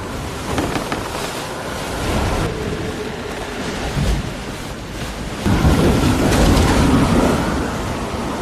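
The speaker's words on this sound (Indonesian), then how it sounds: "hingga pada malam berikutnya pun tiba Chuck dan Wilson tiba-tiba diterjang badai puting beliung" A violent night storm at sea from the castaway film, with broad roaring surf and wind, rumbling low thunder-like surges, and a louder crashing burst of waves and weather in the second half.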